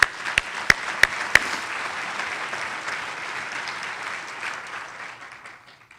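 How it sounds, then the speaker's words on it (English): Applause from a seated audience at a charity foundation luncheon: a few sharp early claps lead into steady crowd clapping that slowly fades near the end. "Round of applause for those folks."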